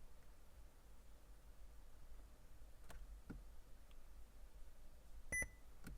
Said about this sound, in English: until you hear the beep.